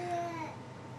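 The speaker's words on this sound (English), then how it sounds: "Sorry about the kids in the background" Young children babble briefly in the background, a short burst of high, sing-song vocal sounds with no clear words.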